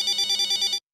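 A telephone rings in a Hindi sitcom household, a short electronic trill pulsing about five times in quick rhythm before cutting off abruptly.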